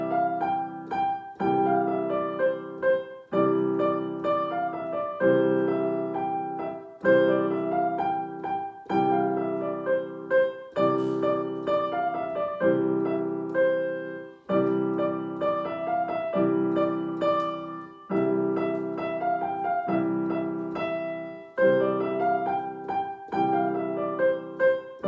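Piano playing a melody with chords in a steady, slower-felt pulse, repeated phrases with clear struck notes and sustained harmony, close and alone without talk.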